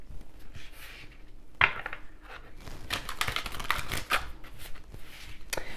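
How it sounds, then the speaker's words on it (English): Tarot and oracle card deck shuffled by hand, irregular riffling and snapping flurries of cards close up, with no voices. "Let's do some shuffling."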